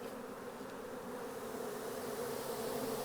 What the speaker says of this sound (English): Look how many bees are in here.